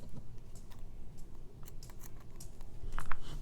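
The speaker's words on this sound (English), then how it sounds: "then cut your yarn" Scissors snip through crochet yarn at the end of a row for a beginner handbag, a few soft, quick clicks close by over faint room noise, with a slightly sharper cut near the end.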